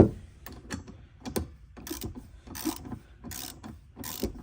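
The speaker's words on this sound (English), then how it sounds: "then you'll want to tighten it the rest of the way down." A ratchet tightening a nut on the windshield wiper linkage of a 2015 Chevy Cruze, clicking in short repeated bursts of rapid ratcheting, close and clear with no talk.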